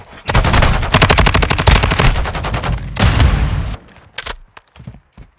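Gunfire in Call of Duty: Modern Warfare II: a loud, fast stream of automatic shots for almost four seconds, followed by a few isolated sharper reports.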